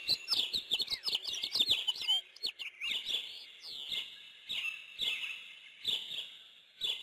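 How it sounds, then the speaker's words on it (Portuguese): Birds sing outdoors in a busy chorus of bright chirps and trills, coming in quick bursts with short pauses, fairly close and continuous, with no voices. "Silêncio, pássaros, burros."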